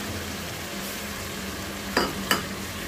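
Yogurt mixture being stir-fried for veg biryani, a steady soft sizzle with two sharp spoon-scrape clatters near the end, close and alone.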